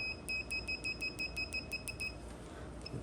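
A digital multimeter set to continuity gives a string of about ten short, evenly spaced high beeps during a repair of a DeWalt 20 V DCV580 cordless vacuum, with one more faint beep near the end.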